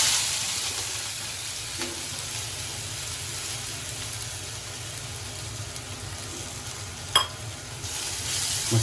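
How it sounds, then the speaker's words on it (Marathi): Green chillies, garlic and ginger sizzling in hot oil, a continuous close frying hiss with a faint low background hum and a couple of brief utensil clinks, no talking. "तर हे आपण सगळं तेलात घालूया"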